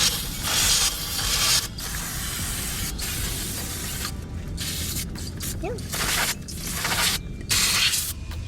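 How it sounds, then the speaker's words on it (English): Brake cleaner sprayed onto the rear brakes of a 2016-2019 Hyundai Sonata, a steady close hiss in long bursts with brief pauses between them and faint mechanical clicks underneath. "now I'm about to finish spraying everything down and get the back side"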